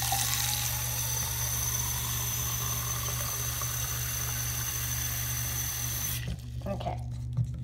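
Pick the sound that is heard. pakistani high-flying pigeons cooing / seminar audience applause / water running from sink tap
water running from sink tap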